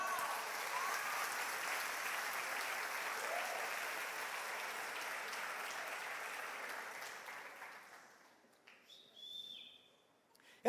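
A church congregation applauds during a sermon, a dense steady wash of clapping that fades out after about eight seconds into near silence, followed by a brief chirp and a short sound at the end.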